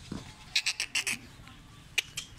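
Goats on a farm in Dera Ghazi Khan bleat in a quick run of short, fairly close calls, with one more call after a brief pause, over a faint background hum.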